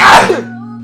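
A single sharp sneeze bursts out up close, followed by a low steady hum.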